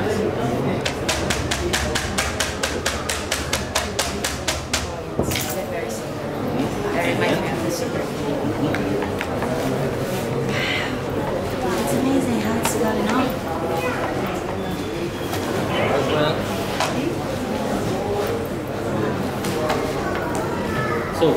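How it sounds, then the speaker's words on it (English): A rapid run of light, regular taps opens the clip as layers of papyrus plant are gently hammered, then someone speaks over softer scattered knocks and handling noises. "so what we do actually is hammering a layer, this one here."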